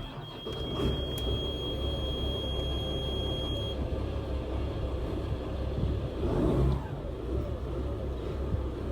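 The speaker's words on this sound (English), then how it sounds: "So our starboard engine is now running." A boat's starboard engine on the River Yare in the Norfolk Broads runs with a steady low rumble and drone, joined briefly by a high electronic beep tone, then swells slightly near the end; no voices.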